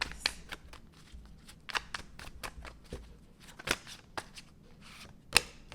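Tarot cards shuffled and snapped by hand, a quick run of crisp riffling flicks and slaps close up, with brief pauses between bursts and no talking.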